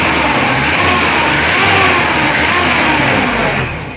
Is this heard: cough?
no